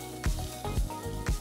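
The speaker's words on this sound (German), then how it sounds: "Jetzt richtig schön kräftig anbraten" Beef searing hard in oil in a frying pan at about 70% heat, with three bursts of sharp sizzle and spatter over a steady close frying hiss, no talk.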